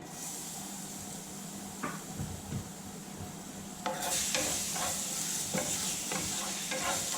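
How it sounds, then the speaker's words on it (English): Fresh garlic fries in a pan with a continuous soft sizzle, joined midway by a brighter, louder hiss and scattered clinks and scrapes of stirring, close and without talk. "We'll fresh fry the garlic"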